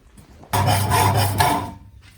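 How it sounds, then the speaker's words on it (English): A big saw bites into a large piece of steel with a loud, steady rasping grind that starts abruptly and runs for about a second and a half before cutting off, heard alone without talk. "that is a big piece of steel, so I'm going to cut that in the big saw"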